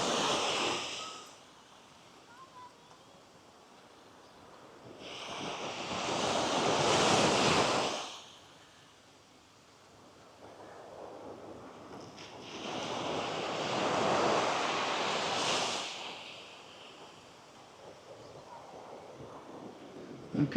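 Ocean waves breaking at Trinity Beach on the Coral Sea on a cool day, with two long swelling rushes of surf rising and fading between quieter stretches, heard from nearby with a little wind on the microphone.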